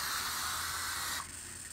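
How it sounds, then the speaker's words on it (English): A can of non-stick cooking spray releases one continuous close hiss onto a George Foreman grill for over a second, then cuts off and leaves a faint whine. "So throw down some non-stick."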